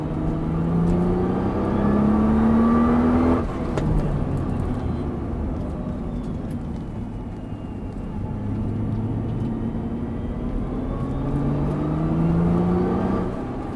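On a race circuit, a car accelerates in long, loud pulls up close, its engine pitch rising, dropping at a shift or lift, then climbing again.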